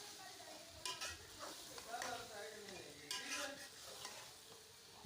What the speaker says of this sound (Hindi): ये मैंने आलू भी शामिल कर दिए हैं इसमें। अब इनको थोड़ा सा भूनेंगे